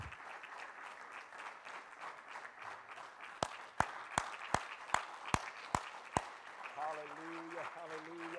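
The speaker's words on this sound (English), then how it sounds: "Give God one more big hand clap." A church congregation applauds with a steady wash of clapping, then about eight sharp, evenly spaced loud group claps ring out in unison before a voice rises at the end.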